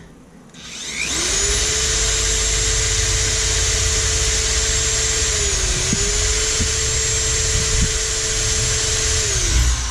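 A power drill whines steadily at high speed for several seconds, close and loud, pitch dipping briefly once before ending.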